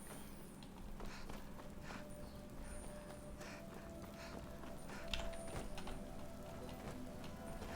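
Horse hooves clip-clop at a steady walking pace in the video game Skyrim, a soft continuous patter of footfalls mixed with ambient game sound and occasional brighter clicks.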